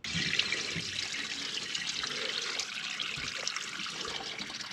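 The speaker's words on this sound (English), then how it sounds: "I'm having the team fill up the sinks, and then we're gonna drain it and see how much water is leaking" Water draining from filled kitchen sinks with a leak beneath, a steady close splashing trickle and gurgle that runs throughout.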